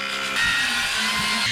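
A power saw rips a hardwood piece lengthwise while restoring a wooden boat, a loud steady whine with a rising cutting tone after a brief idle start, no voices.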